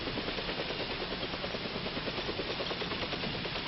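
Helicopter rotor and turbine noise at a forward-area refueling pad, a steady, loud, continuous drone with rhythmic blade chop throughout, no voices.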